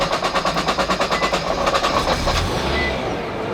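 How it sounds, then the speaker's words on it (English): A Nissan GT-R engine running on E85 fuel cold-starts with a rapid pulsing rattle that settles into a steady, loud idle roar, heard close up with no talking. "E85 cold start, baby."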